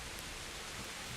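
Steady, even hiss of rainfall in the medieval game Kingdom Come: Deliverance, a soft continuous wash with no distinct drops and no talking.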